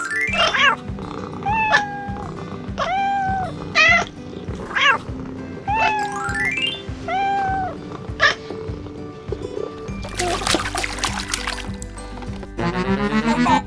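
A cat meows again and again in short upward-bending cries, close and clear, followed near the end by a burst of rushing water and noise.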